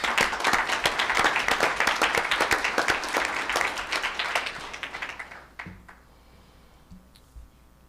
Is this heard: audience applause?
yes